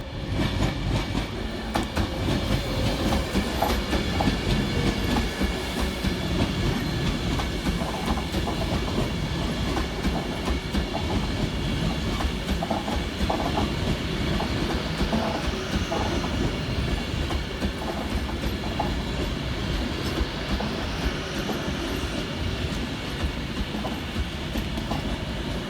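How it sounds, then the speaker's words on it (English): Avanti West Coast Class 390 Pendolino running into Crewe station, a loud steady rumble of wheels with rhythmic clickety-clack over rail joints and faint squeals, sustained throughout with no talk. "Arriving next into the station will be 390 131. Working the 15:04 Avanti West Coast service from Glasgow Central through to London Euston."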